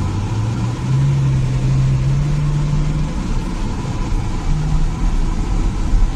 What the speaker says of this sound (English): I'm allowing him to drive my Ferrari.